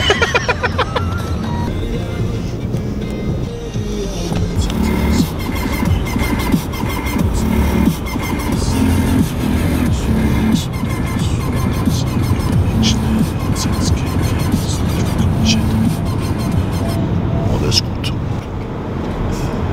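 Steady road noise from inside a moving car on the way to Holland, a continuous low engine and tyre rumble with a faint squeal, while people talk over it throughout.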